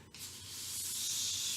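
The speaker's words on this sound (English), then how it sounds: "spray the back of the pleather, nice coat there" An aerosol can of Neoprene 98 contact adhesive sprays onto the back of a sheet of pleather, making a steady, close, loud hiss that builds after a brief start and holds for about a second and a half, with no talk.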